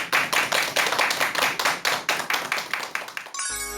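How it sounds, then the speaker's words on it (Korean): A lecture audience gives a round of applause, with close, distinct rhythmic claps pulsing evenly for over three seconds before cutting to music. "여러분 큰 박수 부탁드립니다"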